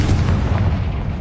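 A Confringo blasting spell bursts in Hogwarts Legacy, a dense, loud low rumbling explosion that fills the whole moment without pause.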